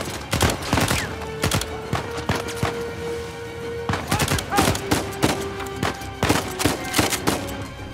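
Bursts of rapid gunfire in the video game Uncharted 4 crack out loud and close in clusters, mixed with thuds and sustained background tones.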